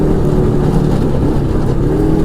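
A close, loud, steady engine drone comes from an Arctic Cat Wildcat 1000X side-by-side under power, holding a constant pitch for a couple of seconds with no pauses.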